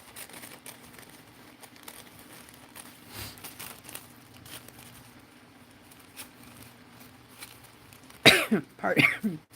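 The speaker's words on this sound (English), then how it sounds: "that little cough is still there" Quiet background hum for most of the stretch, then a short burst of loud, close coughs near the end, alone with no talk.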